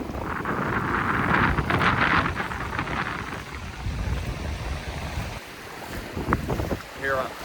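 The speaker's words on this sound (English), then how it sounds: "The wind is absolutely howling." Strong wind roars and buffets the microphone in heavy gusts at Marble Hill Beach, Donegal, on the Atlantic coast, with surf washing underneath and a brief faint voice near the end.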